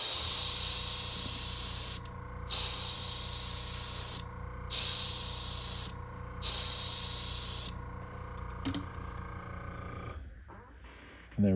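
Airbrush hissing paint through a stencil onto a fishing bait in repeated bursts of a few seconds each, separated by brief pauses, with a steady compressor hum beneath and a short clatter at the end.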